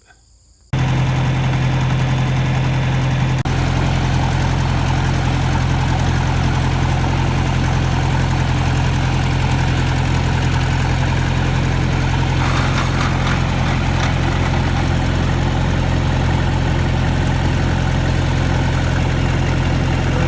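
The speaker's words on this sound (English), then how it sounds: "Let's start the tractor up." An old tractor engine on a pasture farm starts abruptly after a brief silence and settles into a steady, loud, low idle that runs on without a break, with no talk over it.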